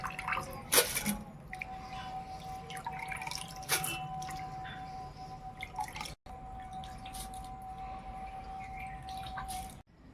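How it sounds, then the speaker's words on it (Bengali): Soaked raw aatop rice being strained, with water dripping and trickling steadily through the strainer into a vessel, punctuated by a few sharper splashes and clinks, close by and without talk. "চালটাকে আমি ছেঁকে নিচ্ছি"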